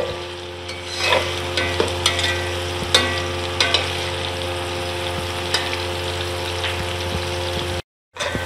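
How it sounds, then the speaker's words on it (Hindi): Onions frying in a pan toward golden brown over raised heat, a steady close sizzle with scattered clicks of stirring throughout, no voices, and a brief dropout near the end. "आग थोड़ी तेज़ कर दें ताकि ये प्याज जो है ये अच्छी तरह से इसमें ब्राउन हो जाए, गोल्डन ब्राउन।"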